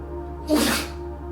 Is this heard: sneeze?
yes